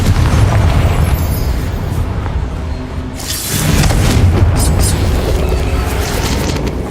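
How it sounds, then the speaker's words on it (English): In the Hogwarts Legacy video game, a Confringo fire spell explodes as a loud, sustained roaring blast, with a second surge partway through and dense rumbling continuing throughout. "Confringo!"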